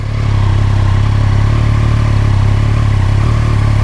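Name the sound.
Triumph Street Triple R 765 three-cylinder motorcycle engine running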